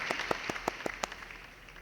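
A few scattered, separate claps from a small audience at a CAD/CAM design competition prize announcement, roughly six sharp hand claps in the first second before fading into quiet room noise.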